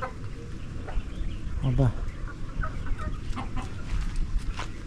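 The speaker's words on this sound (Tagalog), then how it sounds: "Pag ang manok ay gumaganyan mga ka-farmer," Darag native chickens clucking on a farm, a hen about to lay giving a short burst of calls among soft clucks, under a quiet voice and background noise.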